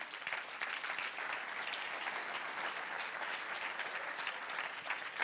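A church congregation applauds continuously, a dense, even wash of clapping hands that holds steady throughout with no voices standing out.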